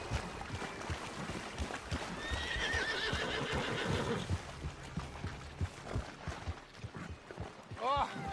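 Horses in a video game neigh loudly, with a long whinny and a sharper one near the end, over clip-clopping hooves and rumbling ambient noise.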